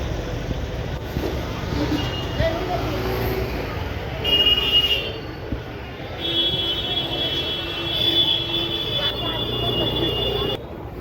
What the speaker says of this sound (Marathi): ट्रॅफिक आहे बघा.